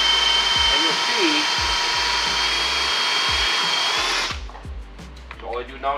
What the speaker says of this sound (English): So I'm going to use a 7-inch buffer in this case because it's a fairly wide area.